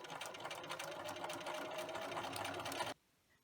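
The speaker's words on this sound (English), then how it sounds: "I finished sewing around" Sewing machine stitching around the edge of a string-pieced fabric potholder, a steady close rapid whirring hum for about three seconds that stops abruptly into quiet.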